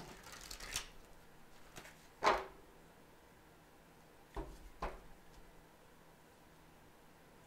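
Oracle cards handled and shuffled at close range, a few soft riffling bursts and rustles separated by quiet pauses, faint and without talk.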